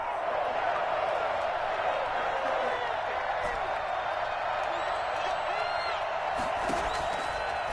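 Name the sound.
stadium crowd cheering in Madden video game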